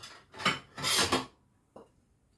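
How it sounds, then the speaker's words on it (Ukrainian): A few clattering scrapes of a plate set on top of cabbage rolls in a pot, two dense bursts followed by a brief lighter clink, close by with no talking. "Зверху покладу тарілочку, прижму"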